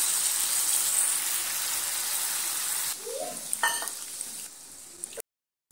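Mustard paste drops into hot oil in a pan for a koi fish curry. A bright, hissing sizzle runs strongly and then eases into softer frying, with a few utensil clinks before it cuts off.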